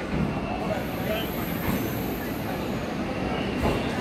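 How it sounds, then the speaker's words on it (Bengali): The Maa Tara Express pulls out of Sealdah station in the morning, a close, steady rumble of wheels and carriages with a faint high whine above it. "এখন আমাদের ট্রেন ছাড়তে চলেছে মা তারা এক্সপ্রেস"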